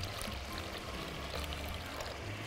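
Water poured into a bowl of flour batter for a calamari pasta dish, a steady close trickle and splash running alone for a couple of seconds.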